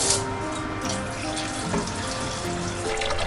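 Tap water runs continuously into a kitchen sink to cool boiled food for homemade chicken nanban, making a loud, steady rushing splash throughout with no talking.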